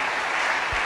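A church congregation applauds during a service, a brief burst of steady dense clapping from many hands in a large room.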